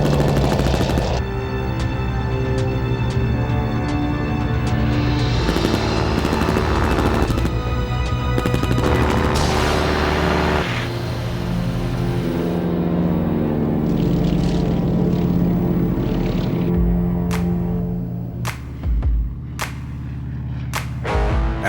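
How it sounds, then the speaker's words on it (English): Piston-engine fighter planes from the 1950s fly in a dogfight at a civilian air combat school, with loud droning propeller engines that rise and pass overhead, followed by sharp bursts of cracks and rattles in the final seconds. "anyone can learn to dogfight in 1950s fighter planes"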